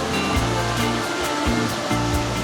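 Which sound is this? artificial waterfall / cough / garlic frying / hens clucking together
artificial waterfall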